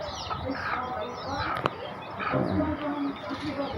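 Free-range native chickens cluck and murmur close by on a farm, with soft scattered calls, a brief sharp tap, and a low background of voices.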